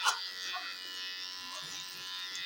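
An electric shaver shaves underarm hair with a steady high buzzing drone close up, moderately quiet and continuous with little variation.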